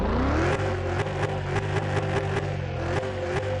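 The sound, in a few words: car engine starting and revving in Car Mechanic 21 video game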